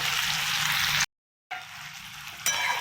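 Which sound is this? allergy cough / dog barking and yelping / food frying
food frying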